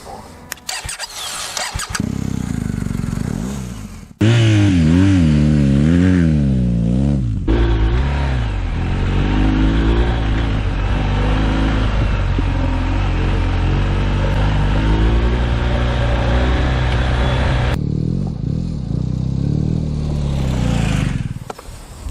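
A motorcycle engine starts and revs repeatedly, loud and close, rising and falling in pitch, then settles into a steady idle before cutting off.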